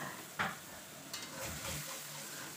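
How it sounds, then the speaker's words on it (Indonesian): Ground spice paste of ginger and other aromatics, blended with a little water, sautéed in a small amount of hot cooking oil, giving a steady close sizzle with a couple of sharp stirring scrapes and spatters. "Panaskan sedikit minyak goreng, lalu tuangkan bumbu-bumbu yang sudah dihaluskan dan tumis-tumis hingga harum dan berubah warna."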